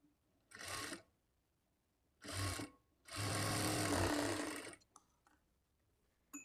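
Sewing machine stitching the lining of a blouse in three bursts, two short runs and then a longer steady run of rapid needle rattle, followed by faint handling clicks.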